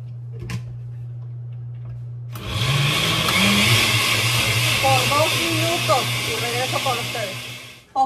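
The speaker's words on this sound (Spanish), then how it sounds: "Ahora lo vamos a poner a moler, lo que es la cáscara y el arroz." After a low steady hum, a blender abruptly starts grinding rice and peel, a loud, gritty whir with rattling bits tumbling inside, running steadily for several seconds before briefly dropping off.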